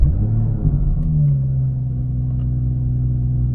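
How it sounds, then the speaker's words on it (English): A 2019 BMW 440i Gran Coupe with a modified exhaust starts up and settles into a deep, steady rumbling idle, close and loud, with a brief rise in pitch early on. "So let's go ahead and start it up."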